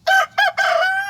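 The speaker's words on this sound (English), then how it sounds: "that rooster's proud, isn't he?" A Wyandotte rooster crows close by on a backyard chicken flock, one loud, clear cock-a-doodle-doo in three bursts, standing alone without talk.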